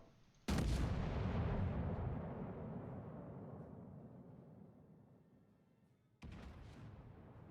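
A heavy naval gun salvo booms in World of Warships, its rumble slowly decaying over several seconds before a second, lighter blast near the end.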